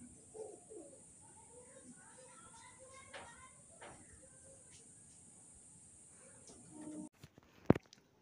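Soft, low cooing from pigeons kept in a home loft comes in scattered faint calls over quiet background, ending with a few sharp knocks and rustles up close.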